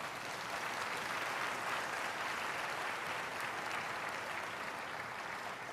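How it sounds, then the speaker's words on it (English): A forum audience applauds the Chief Executive, Mr. Lee, after his opening address at the Asian Financial Forum, with sustained, even clapping from a large crowd throughout, heard at moderate distance. "Can we have another round of applause for the Chief Executive,"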